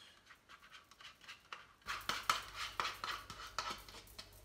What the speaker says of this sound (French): On va commencer par ouvrir le yaourt et verser le yaourt dans le saladier.